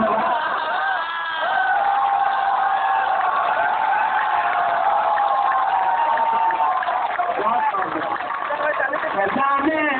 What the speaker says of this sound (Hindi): बस ये तालियों का शोर थोड़ा और बुलंद करो